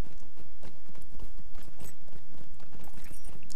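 A race horse gallops at a summer festival in Lord of the Rings Online, with rapid, loud, close hoofbeats drumming continuously in a steady rhythm.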